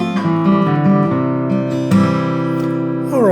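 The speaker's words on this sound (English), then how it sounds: "let me show you how you can put some finger picking around that bass rundown" Fingerpicked acoustic guitar plays a descending bass rundown under ringing chord notes, individual plucks clear and close, with no talking.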